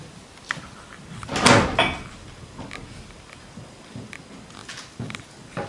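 A locked door rattled and pushed once in a staging of The Comedy of Errors, giving one loud knocking clatter near the start, then a few faint bumps over a quiet room.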